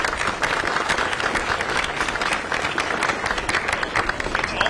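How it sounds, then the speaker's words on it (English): An outdoor ceremony audience at the Hudson Relays breaks into applause, a full, continuous roar of many hands clapping at a fairly close, even level throughout. "So let's give them another round of applause."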